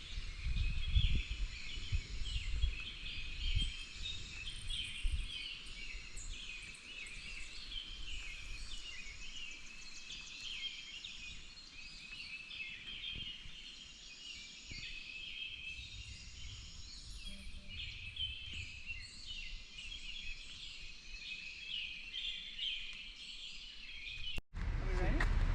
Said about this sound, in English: Can you hear all those birds?